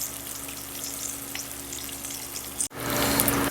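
Sausage frying in a pan with a steady, loud sizzle, briefly cutting out before returning stronger as the pan is stirred or moved; no speech.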